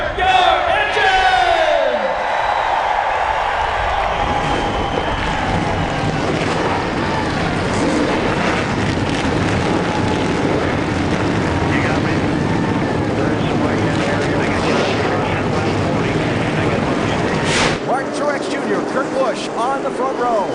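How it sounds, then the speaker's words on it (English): NASCAR Sprint Cup stock car engines fire up and roar together at Dover's Monster Mile, a dense, loud, sustained rumble blended with crowd noise and wind buffeting. "Drivers, start your engine!"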